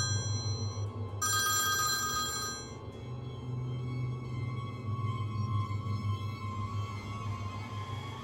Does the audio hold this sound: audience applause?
no